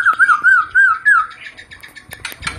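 A White-rumped Shama of the Medan type sings loud, close rolling whistled phrases in a steady repeating pattern, then shifts into quicker mixed chirps and trills toward the end.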